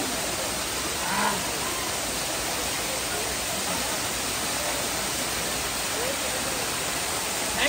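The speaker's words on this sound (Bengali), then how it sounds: "এই যে জল ওখান থেকে পড়ছে" A steady, dense roar of water falling from a height, heard on a bike trip through Purulia, continuous and fairly loud with no clear breaks.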